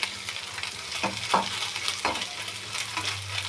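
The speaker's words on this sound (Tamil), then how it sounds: "ப்ரௌன் கலர் வந்ததுக்கப்புறம் கருவேப்பிலை போட்டுக்கோங்க" Curry leaves crackle and sizzle as they drop into browned masala frying in a pan, with a few sharp spits and a steady frying hiss beneath, stirred occasionally at close range.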